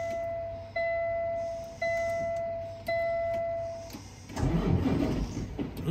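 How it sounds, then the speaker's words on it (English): A Cummins ISX diesel in a 2016 Peterbilt 579 automatic truck with 855,000 miles on it: three dashboard warning chimes are followed by the engine cranking and firing into a loud, close, rumbling idle. "let's get it fired up and have a listen"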